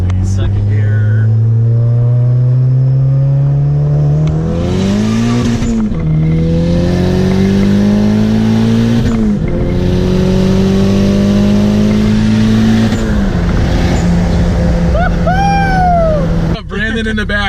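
A turbocharged Honda Civic Si pulls hard in second gear from inside the cabin, the engine note climbing steadily through several shifts with a rising turbo whine and voices talking over it.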